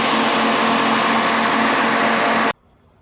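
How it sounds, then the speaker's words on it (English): A Mercedes M119 engine idles steadily and loudly with a constant hum and mechanical whine, cutting off abruptly near the end to quiet. "It's sitting and idling here fine."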